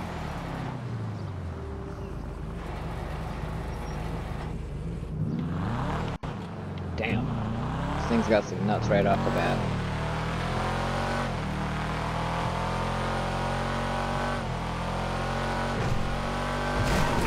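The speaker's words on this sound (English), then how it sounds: "now let's take this car out and give it a test drive." A Karin Sultan Classic tuner car in GTA 5 roars off and climbs through the gears, engine pitch rising and dropping with each shift, loud and close while someone talks over it.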